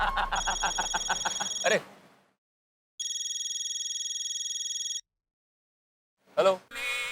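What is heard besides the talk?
telephone ringing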